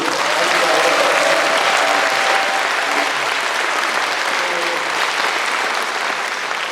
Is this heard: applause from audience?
yes